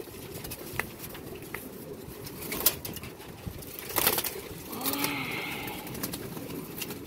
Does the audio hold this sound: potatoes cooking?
no